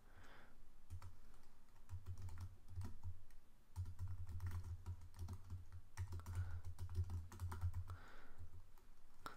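Quick, irregular clicking of keys on a computer keyboard, close and fairly soft, in bursts with brief pauses and a low hum underneath.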